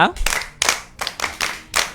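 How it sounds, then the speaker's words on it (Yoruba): Young children clap for their mothers in a quick run of crisp claps, close and fairly loud, with a short bit of voice at the very start. "Àtẹ́wọ́ ìyá"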